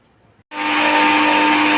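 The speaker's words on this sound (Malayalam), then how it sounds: "ഇപ്പം അതിനുള്ള നിർവാഹമില്ലാത്തത് കൊണ്ട് മിക്സിയിൽ കുറച്ച് വെള്ളം ചേർത്ത് തന്നെ നമുക്ക് അരച്ചെടുക്കേണ്ടി വരും" Mixer grinder starting up on coconut with a little water, a sudden loud, steady motor whine that kicks in after a brief quiet moment and holds evenly.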